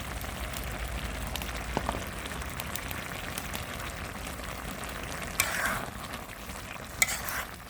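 Fresh kolai greens with chopped tomato sizzle steadily in a pan while being stirred, a close, continuous frying hiss broken by a few sharper clinks of the spoon, with no one speaking.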